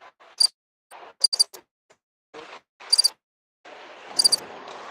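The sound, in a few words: crickets chirping sound effect played from a mixer board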